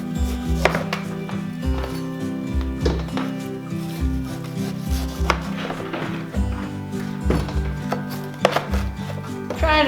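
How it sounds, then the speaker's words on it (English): A knife thuds repeatedly against a cutting board while moose meat is cut into grinder-sized chunks, in irregular close chops with soft rubbing between strokes and no speech. "Okay, let's see if I can cut some of this. Oops. Cut some of this in chunks."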